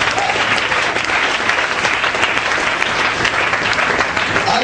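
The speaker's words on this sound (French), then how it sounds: "Est-ce que tu peux acclamer Jésus pour ça?" A church congregation breaks into sustained, dense applause, with cheering woven in as worshippers acclaim Jesus; the clapping stays loud and steady from start to finish.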